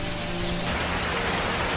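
Heavy rain pours at night in a steady, dense hiss that fills the whole stretch, loud and unbroken with no talking.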